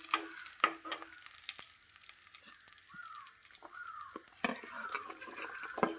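Vadagam, a dried seasoning, frying in a mix of gingelly and groundnut oil for a fish curry: a steady, moderately loud sizzle with a few sharp utensil clatters near the start and end, no voices.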